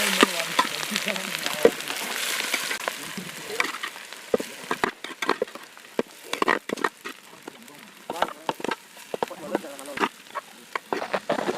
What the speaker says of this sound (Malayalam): ഇതിൽ വെളിച്ചെണ്ണ ഒഴിച്ചു കൊടുക്കുകയാണ് നമ്മൾ മസാല ഉണ്ടാക്കാനുള്ള തയ്യാറെടുപ്പിലാണ് സവാള ചേർത്ത് ചെയ്യാം